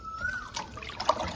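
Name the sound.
water rinsing cut tripe pieces while washing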